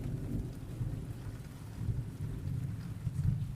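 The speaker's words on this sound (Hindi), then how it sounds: "आसमान में काले बादल घूम रहे थे, तेज हवा चल रही थी, दूर से बिजली की कड़क सुनाई दे रही थी।" A thunderstorm with steady rain and low, rolling thunder, heavy rumbling pulses swelling and easing beneath a constant wash of rainfall, no voices.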